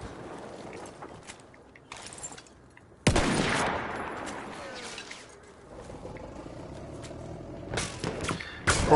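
Sniper rifle fire in Battlefield 1: a loud, sharp shot cracks out midway, followed by a dense wash of distant battlefield gunfire and mechanical rattles, with quieter crackling shots earlier and toward the end.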